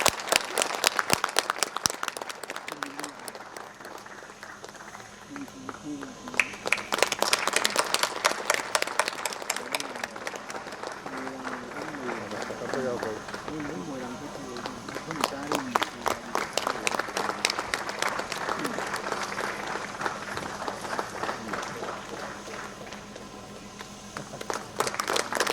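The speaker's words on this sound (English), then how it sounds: "Round of applause." Sustained audience applause at a Parakram Diwas school ceremony at Bal Vidya Mandir, Imphal, with dense, loud clapping continuing throughout and a few voices faintly heard beneath it.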